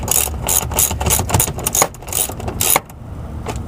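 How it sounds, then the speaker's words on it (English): A hand ratchet tightens a bolt while a car's rear seat cover bolster is installed, giving loud, close, rapid clicking bursts in quick repeated strokes with brief pauses, and no voices. "Put our handy dandy ratchet back on there."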